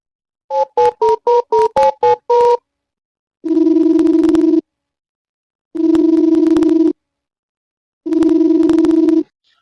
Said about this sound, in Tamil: இப்போ வேணா ஃபோன் பண்ணி பார்க்கலாமா